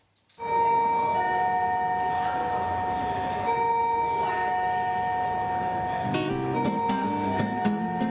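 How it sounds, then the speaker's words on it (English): A sustained electric school bell rings loudly and continuously for several seconds in Singapore, with clattering and busy canteen background noise joining toward the end. "This bell marks the start of a daily race against time."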